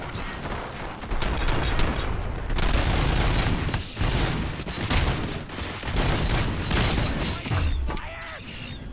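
Gunfire in the Robocop: Rogue City video game, a loud, nearly continuous barrage of rapid shots with mechanical clanks and crashing debris throughout.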